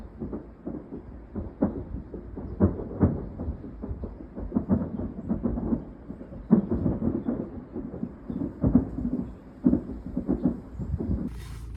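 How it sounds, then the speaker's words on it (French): Long rolling thunder rumbles on without a break, low and moderately loud, with repeated irregular cracks and booms like distant fireworks across the whole stretch. "On dirait des feux d'artifice ou un long tonnerre perpétuel"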